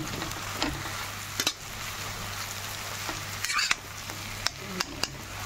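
Chow mein tossed and stirred in a frying pan, a steady sizzle underneath with sporadic utensil scrapes and clinks close by.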